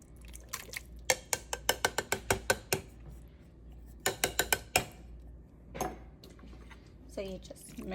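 Shredded beef being mixed with salt in a crock pot, heard as a run of close, quick clicking and scraping knocks in two bursts, then softer wet stirring, with no talk over it.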